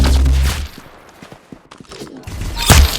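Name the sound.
gunfire from the video game Arsenal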